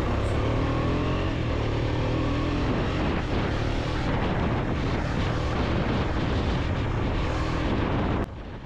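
A motorbike rides in through the main gate of Gudlavalleru Engineering College, its engine a loud, steady roar with wind rush throughout that cuts off abruptly near the end.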